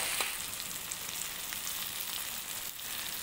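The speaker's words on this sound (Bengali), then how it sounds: "এই মশলাটাকে একটু ভালো করে লাল লাল করে ভাজবো যতক্ষণ না তেল ছেড়ে আসছে" Masala spice paste frying in oil for Kolhapuri paneer, a steady, close crackling sizzle that holds level throughout with small spits and pops.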